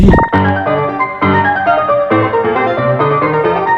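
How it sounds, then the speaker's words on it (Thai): Bright piano-like notes in the music game Incredibox play a fast melodic line over sustained chords, steady and loud, with no voices. "อันนี้เสียงเป็นโน"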